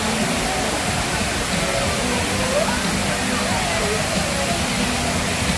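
The Water Wall fountain near the Galleria in Houston roars as a dense, constant wash of falling water, loud and steady throughout, with faint traffic or crowd sounds buried beneath.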